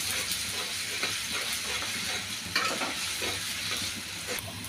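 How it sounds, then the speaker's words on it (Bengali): Garlic paste and cumin sizzle steadily in hot oil in a pan, a close, continuous hiss with occasional stirring scrapes and no talking. "এবার একটু এগুলো 2-1 মিনিট ভেজে নেব একটু সামান্য করে"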